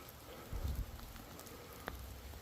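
Steady rain falls outdoors at night by a cemetery in North Wales, a soft continuous hiss with a few low thuds and one brief sharp tap, recorded close on a phone.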